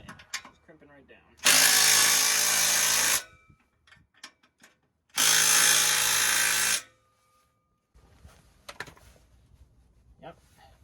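Two loud bursts from a power drill driving a screw into a truck exhaust, each lasting a second or two, separated by quiet handling noises and brief clanks, with a person speaking softly between them.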